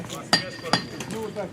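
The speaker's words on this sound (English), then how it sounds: "Later, I notice the hammering is even slightly melodic." Two sharp metallic hammer strikes on a city street in Maine, spaced about half a second apart, ringing briefly over a soft background of street noise and distant voices.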